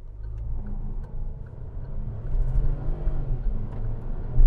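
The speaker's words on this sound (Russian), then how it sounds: "Пустая дорога, газ в пол." A turbocharged Geely is driven flat out on an empty road, its engine droning low and building steadily in loudness, with a heavier surge right at the end.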